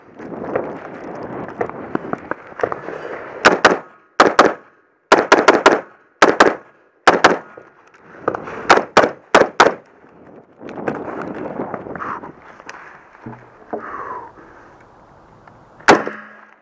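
Pistol fired at an outdoor shooting range in quick pairs and short strings of sharp, loud cracks, separated by gaps filled with a bed of wind or crowd noise.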